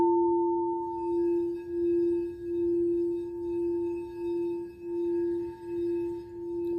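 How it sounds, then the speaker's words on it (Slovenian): A crystal singing bowl sustaining one pure, steady tone with faint overtones above, its volume gently pulsing in slow waves as it rings on alone for several seconds. "prisluhnete malo zvoku te sklede"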